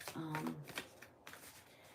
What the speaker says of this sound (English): I'm just shuffling my cards because it helps me focus and channel better.